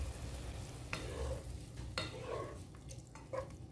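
Black-eyed bean tripe simmering in tomato sauce in a pot, giving a soft steady bubbling sizzle with a few sharper stirring scrapes and clinks, fairly quiet and close, no voices.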